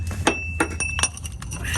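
Metal filter wrench being fitted onto the oil filter of a 2001 Suburban, producing several light, close metallic clinks and taps spaced irregularly over a steady low background hum.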